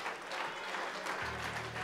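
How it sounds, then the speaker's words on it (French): A church congregation applauds steadily during a worship service, a dense, continuous wash of many hands clapping that fills the room, with a low organ or keyboard note entering partway through. "On va applaudir le Seigneur pour le message."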